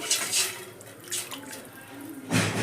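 Rasam, a thin spiced Telugu soup made with fennel, dry ginger and black pepper, pours into a pot in a kitchen as a steady close splashing stream, surging again near the end.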